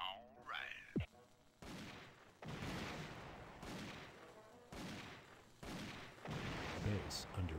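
Repeated bursts of gunfire crackle through a base attack in the Army Men RTS video game, with volleys arriving in regular waves and a faint voice briefly heard near the start.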